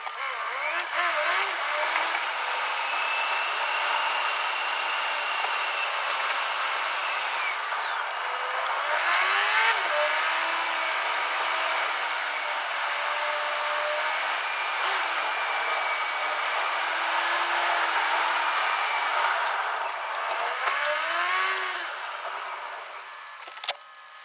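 Car driving around, heard from inside the cabin with a phone app running; a steady broadband whir of road and engine noise continues throughout, with faint rising and falling whistling tones over it.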